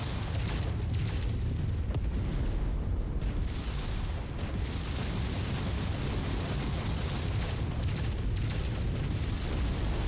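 Continuous loud roar of explosions and rumbling booms fill a MechWarrior 5 battle as an enemy mech is destroyed, dense and sustained with no clear gaps.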